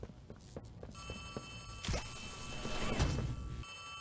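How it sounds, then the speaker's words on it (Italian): A telephone rings with a bright, sustained metallic trill in the Poppy Playtime Chapter 3 horror game. Footsteps and a couple of heavy thuds come before it, and a loud crash lands midway. "C'è il telefono che sta squillando."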